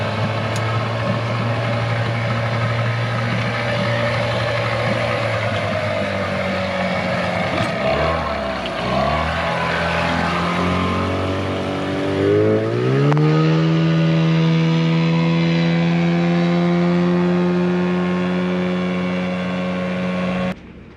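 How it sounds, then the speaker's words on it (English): A boat motor on a sunk and refloated boat running cold and rough, a loud steady drone that wavers midway and then settles into a higher, smoother hum, close by with no talk. "The motor's running."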